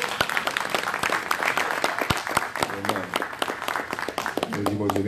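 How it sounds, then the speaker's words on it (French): An audience at a church anniversary gathering for pastors claps in sharp, distinct strokes, with music or a voice sustaining tones beneath the applause. "un bel applaudissement, non?"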